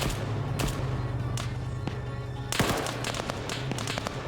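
Arma 3 combat with grenades being thrown: a sharp blast-like crack near 2.5 seconds over a dense wash of battle noise, with scattered snapping pops and thuds before and after.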